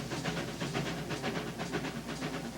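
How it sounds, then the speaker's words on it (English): A passenger train rumbles along with a rhythmic, hissing chug, a steady, fairly faint rolling beat with no voices. "A passenger train is changing course."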